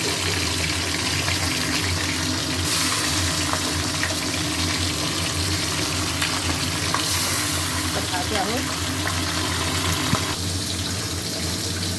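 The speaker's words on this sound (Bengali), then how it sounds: "তেল গরম হয়ে গেছে, এবারে মাছ দিচ্ছি।" Fish sizzles steadily in hot oil in a home kitchen, a dense, continuous crackle with occasional stirring and scraping sounds, close and loud throughout with no talking.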